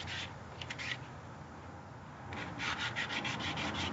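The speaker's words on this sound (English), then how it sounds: "even this little bit of sanding I'm doing is taking off so much of the brake dust and dirt" Sanding brake dust and dirt off a Ford Expedition wheel, heard as close rough rubbing strokes, a few quick passes at first, a quieter pause, then a run of faster, louder strokes.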